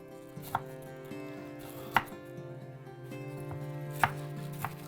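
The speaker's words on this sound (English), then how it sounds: "So we'll just chop this up." A kitchen knife chops cabbage on a cutting board in a home kitchen, a few sharp, irregular knocks against the board at close range with no talk.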